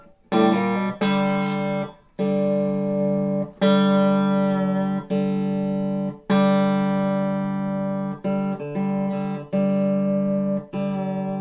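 A clean electric guitar rings out through an Irving 30-watt hand-wired 1x12 combo amplifier, letting sustained chords and notes bloom and decay one after another with no talking.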